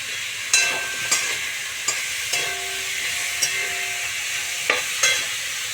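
A spoon scrapes and clatters in a pan as food seasoned with salt and sugar is stirred, the sharp knocks coming every half second or so over a quiet sizzle, near and moderately loud, with no talking.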